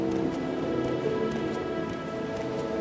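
Steady rain hisses and patters in the OpenMW game engine, a continuous, even wash of falling precipitation with no voices or other sounds.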